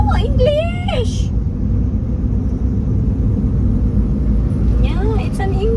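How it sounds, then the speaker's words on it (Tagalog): Car traffic moving along a road, heard as a steady low rumble and engine drone with people talking briefly at the start and again near the end. "Plenty of cars are moving up."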